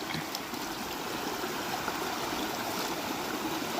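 A river stream flows in a steady, close, full wash of rushing water with no voices.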